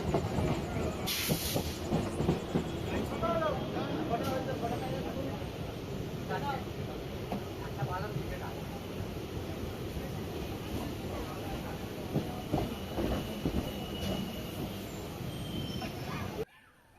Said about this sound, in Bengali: ট্রেন ছুটে চলেছে আপন গতিতে